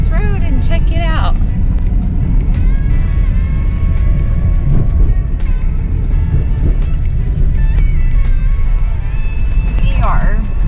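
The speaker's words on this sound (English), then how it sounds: "we're just gonna drive down this road and check it out" A car drives down a jungle back road in Belize near Hopkins, its engine and tire rumble a constant, loud low drone with bumps and rattles, under near-continuous talk.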